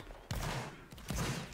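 A musket volley firing in a multiplayer line-infantry video game, heard as two loud booming bursts of massed gunfire about a second apart with no talking over them.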